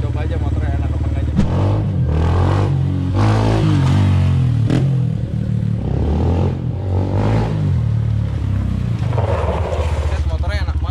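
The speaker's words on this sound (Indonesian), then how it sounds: "Motor di gebernya enak banget guys." A Honda CRF 150L dirt motorcycle revving hard, its engine surging and dropping in repeated bursts close by as it is ridden, with speech over parts of it.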